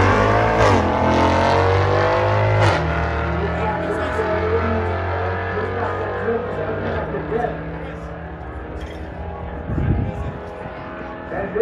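An Audi S3 and a Mercedes C63 AMG drag race with loud engines revving and accelerating, rising through the gears and then fading as the cars pull away, with a few sharp bursts near the end.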